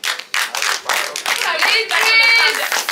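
Students in a classroom clap loudly and briskly for a short burst after a lesson answer about web page attributes, the claps close and sharp with a voice mixed in.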